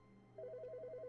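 A telephone rings in The Stanley Parable. An electronic warbling trill pulses rapidly and evenly over a low steady hum and is fairly faint, with no talking.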